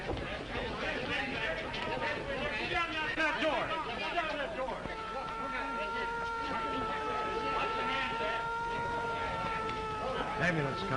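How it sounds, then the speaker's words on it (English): An ambulance siren wails in a 1932 street scene, rising sustained tones that grow more prominent in the second half, heard beneath overlapping chatter and voices. "Ambulance coming"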